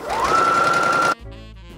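Sewing machine stitching a fabric apron, a steady close whirring run of about one second that rises briefly as it starts, then stops abruptly, leaving a quieter low mechanical hum.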